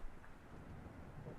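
Heavy rain falls steadily outside with a low, continuous rumble that may include distant thunder, a dense even wash of sound with no voices.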